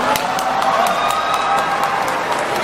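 Crowd noise at a live MapleStory game event broadcast, a dense roar of applause mixed with cheers and shouts, loud and sustained throughout, with no talking over it.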